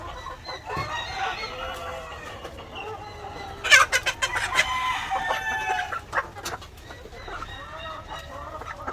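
Several chickens cluck close by, with a burst of louder squawking and flapping partway through, over a low steady background hum.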